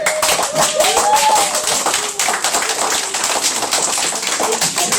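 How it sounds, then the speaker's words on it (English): Elementary school children clapping and cheering for a visiting championship team, a loud crowd of rapid, dense applause with high excited voices mixed in, filling the room throughout. "How about a big cheer?"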